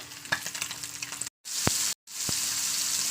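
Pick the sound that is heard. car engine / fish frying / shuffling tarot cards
fish frying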